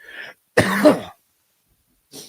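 A short burst of harsh, raspy coughing after a smoke hit, close and loud, framed by brief breathy exhales before and after.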